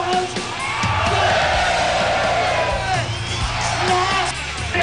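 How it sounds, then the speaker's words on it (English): A big crowd cheers, whoops and yells loudly for Matt Hoffman, the Condor, at a BMX vert event at the Latin X Games in Brazil, a dense continuous roar with shrill individual shouts. "the crowd going nuts for the Condor"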